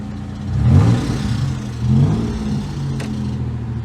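An Oldsmobile Cutlass Ciera wagon's engine runs in neutral while the car sits up on ramps, a steady close idle with a low whirring drone that swells slightly twice, carrying an abnormal noise.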